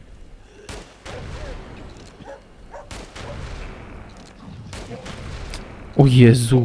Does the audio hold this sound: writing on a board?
no